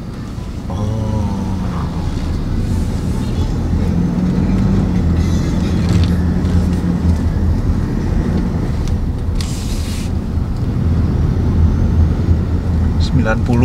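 A Toyota Innova cruises at 40 km/h on an ordinary road, and a loud, steady broadband rumble of tyre and road noise fills the cabin without a break.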